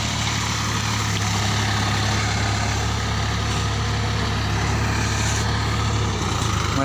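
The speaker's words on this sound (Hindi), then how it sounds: "दूसरा ट्रैक्टर आया है" Tractor engine running steadily outdoors, a loud, continuous low diesel rumble with a constant idling drone, close by and without pause, with no voices.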